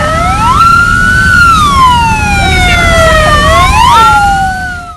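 Loud wailing fire engine sirens, several overlapping tones rising and falling, with road rumble underneath, as fire engines rush to a house fire.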